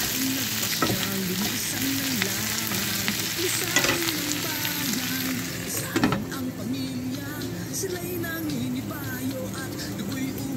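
Vegetables sautéing in a hot pan: a loud, continuous sizzle close up, broken by occasional stirring scrapes and clanks.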